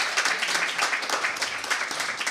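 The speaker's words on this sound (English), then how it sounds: "please give yourself a round of applause" An audience at a singer-songwriter's live performance claps continuously in a dense, even patter of applause, close and sustained from start to finish.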